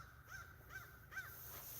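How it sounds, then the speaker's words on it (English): Three crows caw in a slow, evenly spaced series, fairly distant and faint against a low steady background hum. "The crows are getting closer."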